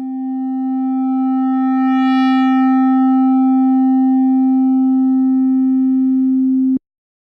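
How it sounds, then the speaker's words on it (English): An Arturia CZ V software synth holds a single steady tone while its waveform morphs from sine toward square, upper harmonics swelling in and fading back before the note stops dead. "Here we see the actual waveform morph between a sine and a square."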